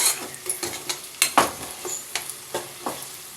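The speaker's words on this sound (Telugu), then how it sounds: "రెండు స్పూన్లు కారం వేసి కలుపుకుందాం" A spoon stirs chili powder into a simmering curry in a pan, giving repeated scraping strokes about twice a second over a soft sizzle, close and without voices.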